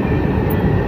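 An MRT train rides along the line near Cubao station in Quezon City, giving a steady low rumble and hum from inside the car throughout, with no talking.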